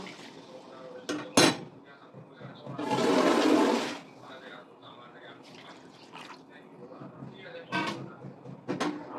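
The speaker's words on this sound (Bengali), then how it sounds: "এবার আমি ঝোলের জল দিয়ে দেব" Water pours into a simmering home-made curry to make gravy, a roughly one-second rushing splash between clinks of utensils on the pot, with a person talking intermittently nearby.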